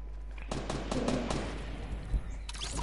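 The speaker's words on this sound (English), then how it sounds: "Is that you shooting?" Rapid bursts of automatic gunfire in Fortnite, PS4 gameplay, crackling in quick volleys across the clip at moderate loudness with a steady low hum underneath.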